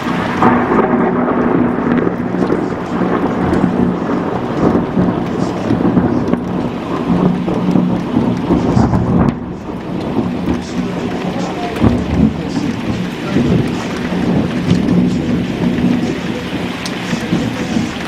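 Steady rain pours throughout a small thunderstorm in North East Essex, with low rolling thunder rumbling beneath it and a few louder swells, close and continuous with no voices.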